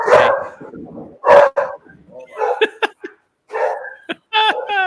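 Dogs bark in a series of sharp, close barks and yips, irregular and overlapping, with brief whimpering tones between bursts and pauses of quiet.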